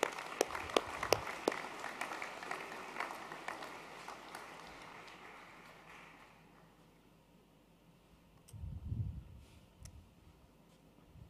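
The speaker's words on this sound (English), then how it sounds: "Can we please have a final round of applause for our Year 12s?" A school sports awards audience gives a sustained round of applause with scattered sharp claps, fading over several seconds, followed by a brief low thump and quieter room noise.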